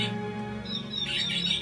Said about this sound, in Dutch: Heb ik vogeltjes meegenomen. Die willen graag eventjes hun geluid laten horen.